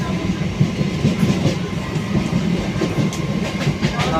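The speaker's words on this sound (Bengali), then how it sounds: "একসাথে দুটো ট্রেন ঢুকলো দেখো" Two trains pull into a station together, a steady loud rumble of rolling wagons with clickety-clack wheel beats running throughout.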